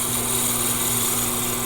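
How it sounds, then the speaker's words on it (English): A drill bores into cocobolo wood for a honey dipper handle, a steady high-pitched whirring drone that holds unbroken at close range, with no talk. "So I want to drill this just a little deeper than the knurled knob"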